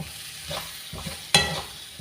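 Spice powders, including fenugreek and sambar powder, roasting in a pan for an okra dish, with a soft steady sizzle, a few scraping stirs and one sharp spoon knock close by.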